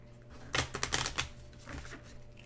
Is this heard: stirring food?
no